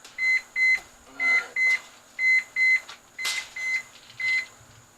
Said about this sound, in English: That was my smoke alarm going off telling me about the temps.